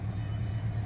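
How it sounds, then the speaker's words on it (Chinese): A small forest mini train runs on rails, a brief steady low rumble with a faint high whine, heard from on board. "俺得坐火车跑啦"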